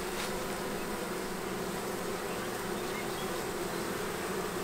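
Honey bees buzz in a dense, continuous drone during queen rearing, a close, steady hum that holds at even loudness throughout with no talk.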